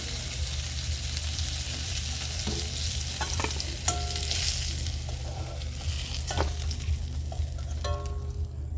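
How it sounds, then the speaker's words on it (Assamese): Pointed gourd frying in mustard oil in a wok, a constant close sizzle under a low hum, with scraping stirs and a few sharp metallic clinks of the spatula. "আৰু মোৰ পটলকেইটা ভাজা হৈ গৈছে।"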